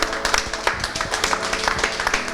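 Audience applause at the final of a televised makeup contest, steady dense clapping filling a short stretch, fairly loud and close, with a faint voice underneath.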